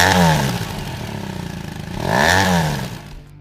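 Triumph Trophy 1200cc inline three-cylinder GT motorcycle engine, loud and close, with a steady rising-falling engine drone and a second swell of revs before it drops away at the end.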